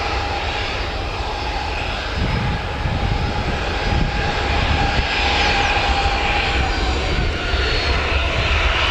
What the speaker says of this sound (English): Next aircraft to leave, Jet2 holidays.